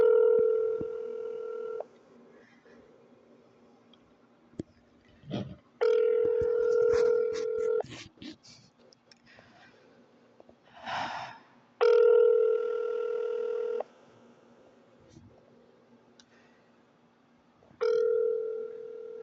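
A telephone rings unanswered on a call to an office: four long ring bursts of about two seconds, separated by pauses of roughly four seconds, with faint clicks and line noise between them.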